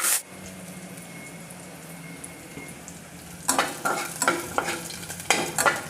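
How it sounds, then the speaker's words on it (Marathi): Chopped green chillies and asafoetida fry in oil for a traditional Marathi green chilli panchamrut. A faint, low sizzle gives way to louder, close stirring scrapes in uneven strokes, with no talking. "हिंग आणि हे चिरून घेतलेल्या हिरव्या मिरच्या चांगला 1 मिनिट तरी तेलामध्ये छान परतून घ्यायचा।"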